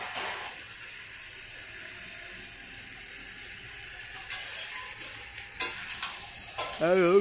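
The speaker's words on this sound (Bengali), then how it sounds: "এবার আলুগুলো দিয়ে একটু কষিয়ে নিলাম ভালো করে।" Potatoes for a spicy red mutton curry being sautéed in a pan, a low steady sizzle with stirring scrapes that grow louder and more frequent toward the end.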